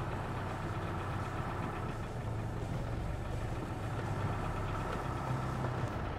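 Car engine idling steadily after start-up in a restored older car, a continuous low rumble with a faint knocking texture, close and fairly loud with no talk.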